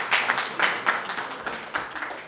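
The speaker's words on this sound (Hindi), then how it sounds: "एक बार जोरदार तालियां भाई अवधी हरि जी के लिए हो जाएं।" Audience at a Hindi book launch ceremony for two spiritual poetry works, heard applauding in a brief burst of uneven, moderately close claps that fades toward the end.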